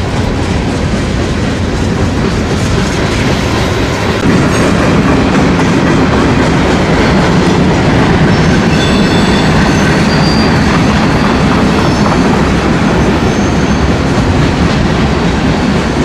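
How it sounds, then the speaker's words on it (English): Train running through a tunnel in Oregon, a loud, continuous roar with rattling wheels and some squealing, close and unbroken throughout, with no voices. "you see what this train does now."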